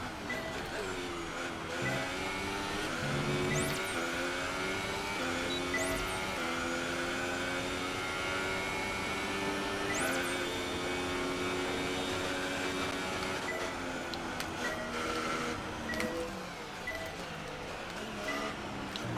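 An F1 car engine from the racing game F1 2018, a high, steady whine that rises and falls as gears shift up and down through a lap, with a brief tyre squeal, continuous and fairly loud, with no talk.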